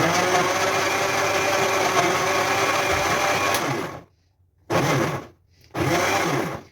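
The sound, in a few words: Tornado blender running at second speed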